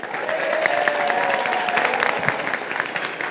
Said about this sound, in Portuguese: Eu queria uma salva de palmas para isso.